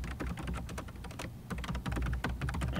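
Fingers type on a computer keyboard in a quick, uneven patter of light clicks and taps, close and fairly quiet, with brief pauses between bursts and no voices.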